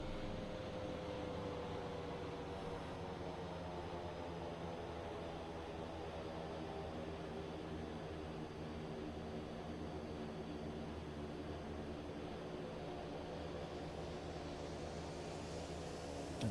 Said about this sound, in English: There's a plane around me I can hear though.